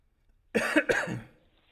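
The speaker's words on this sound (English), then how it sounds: "Sorry, I had a cough." A single short, sharp cough followed by a quick second burst, close and clear against near silence.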